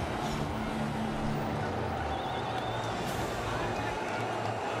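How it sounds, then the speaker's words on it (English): A cricket stadium crowd at a Pakistan versus Sri Lanka T20 match makes a loud, continuous buzzing roar, heard under steady commentary talk. "Crowd are buzzing that bit more."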